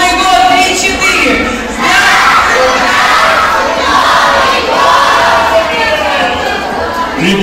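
A crowd of children at a New Year camp party shouts a greeting together in one loud, sustained chorus, voices blending into a dense, excited roar that rises and falls over several seconds.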